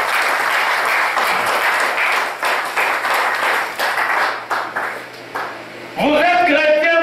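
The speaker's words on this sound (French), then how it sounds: "Applaudissez pour le Seigneur Jésus" Church congregation clapping together in a loud, continuous wash of applause that thins toward the end before a ringing tonal sound cuts in.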